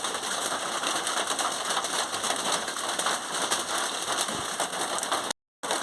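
Heavy rain pours steadily outside, a dense, continuous hiss of drops hitting surfaces that stays loud and even throughout, cutting out abruptly just before the end.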